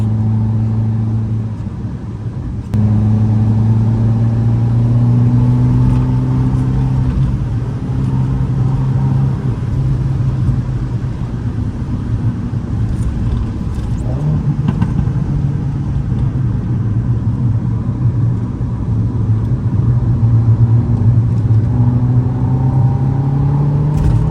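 A stage 1+ Abarth 500 making 180 bhp drives at night on a bumpy road, its engine droning loud and close from inside the car with rising and falling revs and steady road rumble.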